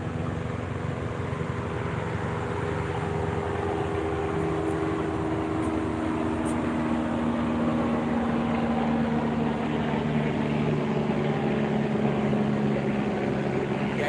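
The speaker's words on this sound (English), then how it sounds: "Yeah, it's a helicopter." A helicopter flies overhead, its steady rotor and engine drone holding a constant, fairly loud level throughout without a clear approach or fade.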